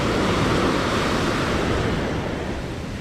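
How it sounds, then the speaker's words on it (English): Surf pounds continuously close to the beach as waves of roughly six-foot swells break within about fifty feet of shore, a dense, steady roar with no voices. "Like I would say these waves aren't even 50 feet out. And they're probably about 6-foot swells."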